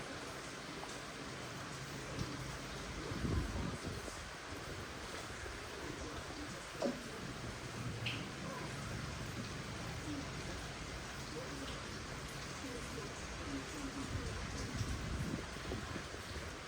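Steady rain falls throughout, a soft continuous hiss of drops with a few louder patters.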